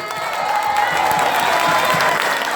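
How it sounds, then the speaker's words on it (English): An audience at a training session claps for their downlines, a dense, steady wash of many hands applauding together, loud and continuous throughout without any talk. "please clap your hands for all of your downlines who attended this training"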